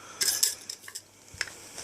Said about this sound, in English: I don't like sucking up rice, it's really noisy.